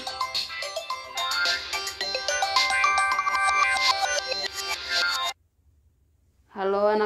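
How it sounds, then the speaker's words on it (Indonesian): A telephone ringtone plays loud and melodic while calling parents in the village, a repeating musical tune that stops abruptly, followed by a short silence before a voice begins. "Kita telepon mama di kampung sama bapak biar tahu gimana kabarnya. Coba telepon dulu mama sama papa."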